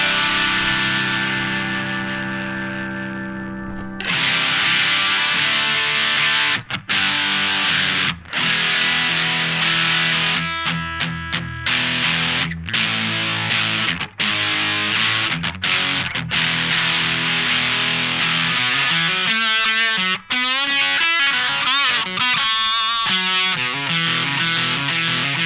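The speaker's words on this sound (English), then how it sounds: "We'll turn the distortion control up a little bit from here." Electric guitar through a Boss DS-1 distortion pedal with the gain turned up, loud saturated chords and riffs with sharp stops and restarts, sustained crunchy tone throughout.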